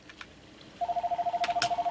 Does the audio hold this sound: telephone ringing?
yes